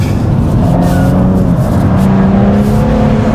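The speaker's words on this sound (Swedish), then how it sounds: "Nu, Alrik, ska vi ut och åka min bil?" A BMW M2 engine under way, a loud, steady close-up drone with shifting tonal whine from inside the moving car and no break in the sound.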